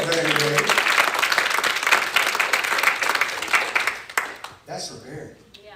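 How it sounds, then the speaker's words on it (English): A church congregation applauds a couple bringing their new baby, dense clapping from a crowd that fills the room and then tapers off, with a voice speaking as it fades. "Let's give them a round of applause."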